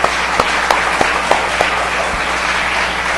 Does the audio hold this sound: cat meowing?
no